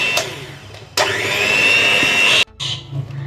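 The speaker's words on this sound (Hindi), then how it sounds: "इसमें ऐसे बीट करेंगे, स्लो बहुत स्लो बीट करेंगे इसे।" An electric hand beater whirs steadily as it slowly beats cupcake batter, a loud continuous motor whine lasting a couple of seconds before cutting off, followed by brief softer handling noises.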